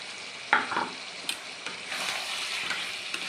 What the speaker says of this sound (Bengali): মাংসটা দিয়ে ভালো করে আমি তেলের সঙ্গে ভেজে নিচ্ছি।